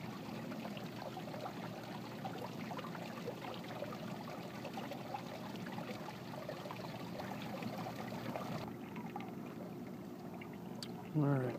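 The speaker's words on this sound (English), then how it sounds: "See the water draining." Water drains steadily through a bell siphon in a backyard aquaponics setup, a continuous pouring, trickling flow heard fairly close, with a brief louder gurgle near the end.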